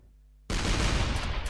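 A shot in the artillery game ShellShock Live: a quiet low hum breaks into a sudden loud blast that rolls on as dense, rumbling gunfire to the end, with no talking.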